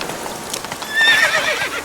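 Roach, a horse in The Witcher 3 video game, lets out a loud, close whinny over the rapid clatter of galloping hooves in a short burst.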